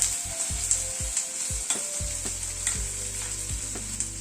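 Chopped ginger and garlic sizzle in hot oil in a pan, cooking for a chatpata egg dish, a bright steady hiss cut by regular spatula strokes and taps, close up, with no voices.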